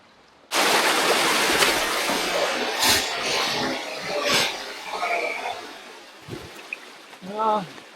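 Creek water rushes and splashes loudly right by the microphone, a steady flowing wash that starts abruptly and carries on under occasional talking, thinning slightly near the end.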